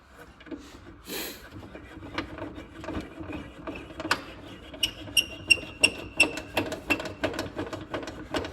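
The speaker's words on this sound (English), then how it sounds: "let me crank this blade up." Crank on a 10-inch table saw turned to raise the blade, giving a series of light mechanical clicks and ratcheting ticks that grow more regular and distinct over the second half.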